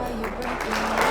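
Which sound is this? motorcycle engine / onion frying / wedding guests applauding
wedding guests applauding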